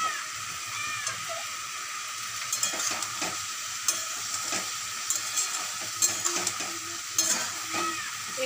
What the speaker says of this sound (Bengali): একটু ভাজা ভাজা করে অনেকক্ষণ ধরে নেড়ে নেবো